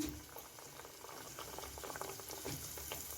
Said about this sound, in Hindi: बिस्मिल्लाहिर्रहमानिर्रहीम पढ़ के हम इसमें डोनट्स डालते हैं